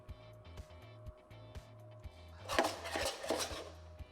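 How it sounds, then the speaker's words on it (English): Metal pan holding cream sauce lifted off a stove, giving a few light clinks and a louder scraping clatter near the end over a steady low hum, no talk. "We go to remove pan with the cream"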